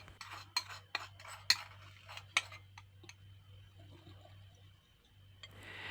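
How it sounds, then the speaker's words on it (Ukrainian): Dry sugar, flour and baking soda being stirred together in a bowl for a simple honey cake, giving a run of light clinking and scraping ticks that fade out, over a steady low hum. "Цукор, борошно і соду змішую разом."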